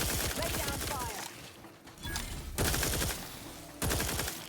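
Dense bursts of gunfire from The Outer Worlds 2 fill the space, sustained rapid fire broken by short lulls, then loud volleys resuming near and continuous.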